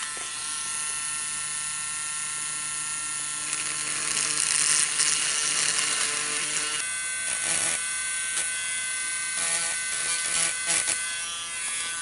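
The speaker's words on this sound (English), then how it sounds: "to make the hole in the egg, I will use a Dremel" A Dremel rotary tool drills a hole into an eggshell for Easter egg decorating, making a close, continuous high buzz that rises and falls in pitch as the bit presses into the shell.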